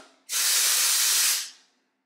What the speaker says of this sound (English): But I do like to lift up and spray, like underneath.